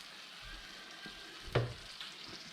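Butter chicken curry sauce made with ground almond and curry base gently sizzles in a pan while being stirred, with one brief utensil knock; quiet and continuous.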